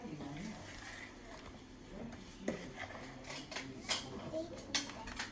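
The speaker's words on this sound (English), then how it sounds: "It is harder to mix it when you've got all this stuff in." Thick cake batter being mixed in a bowl, soft scraping and clinking of a utensil against the bowl that grows into sharper knocks, under quiet talk.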